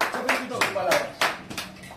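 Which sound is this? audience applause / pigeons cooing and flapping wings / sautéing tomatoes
audience applause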